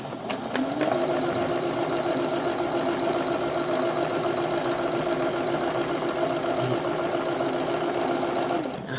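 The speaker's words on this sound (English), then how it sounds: "Now, I'm sewing on my smallest stitch that I have." A sewing machine stitches an orange peel quilt on its smallest stitch setting, a close, steady rapid mechanical whir running continuously for about eight seconds after a brief start.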